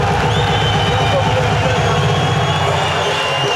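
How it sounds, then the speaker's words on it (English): A crowd at a BAMMA mixed martial arts fight roars in a dense, continuous din, with a commentator's voice talking over it. "Listen to the crowd"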